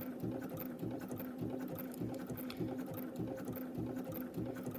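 A sewing machine stitching a paraglider line end loop runs steadily with a fast, even mechanical chatter and a constant motor hum, close and without voices.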